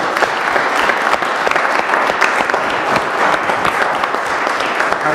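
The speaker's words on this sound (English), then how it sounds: "we'll give him a round of applause for his first meeting" Loud, dense applause fills a city council chamber in Springfield as a new city clerk is welcomed at his first meeting, with continuous clapping throughout.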